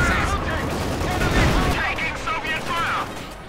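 Scattered gunfire crackles in a Company of Heroes 2 battle, with bursts of shots mixed into a dense wash of battlefield noise under a commentator's voice.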